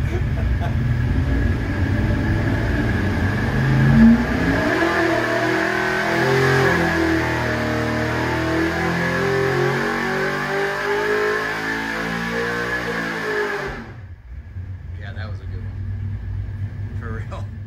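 A 406 cubic inch small block Chevy V8 on a dyno revs hard and holds a loud, roaring drone with rising pitch, then cuts off abruptly, leaving a low background hum and someone speaking.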